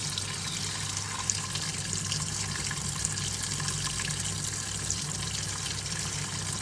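Cold water at high pressure gushes steadily into a Hoover 1400 washing machine as it fills, a continuous rushing flow under a low mechanical hum, close by and with no talking.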